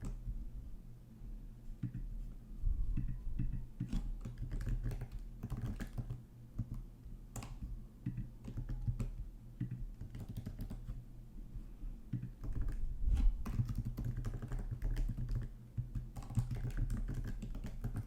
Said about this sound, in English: Typing really is one of my favorite triggers